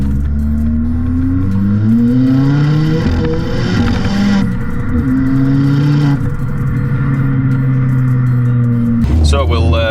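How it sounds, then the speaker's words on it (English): Ford Fiesta ST Stage 3 hatchback pulling hard in second gear with both front wheels spinning, a loud close engine drone rising and falling in pitch across the whole stretch, with a brief sharp burst near the end. "Just spinning both wheels up in second there."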